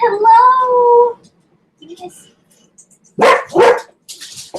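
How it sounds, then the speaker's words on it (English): A pet dog barks twice in quick loud bursts near the end, after a voice speaks and a short quiet stretch with faint household noises. "Is that why they bark?"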